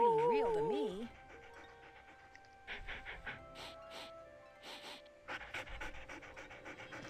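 Ghost dogs pant in Nancy Drew: Ghost Dogs of Moon Lake, rapid rhythmic breaths in short bursts after a wavering tone at the start, close and moderately loud.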